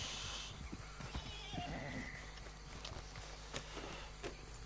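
A horse in Red Dead Redemption 2 whinnies once, a rising neigh over steady game ambience, with a few soft hoof clops scattered around it.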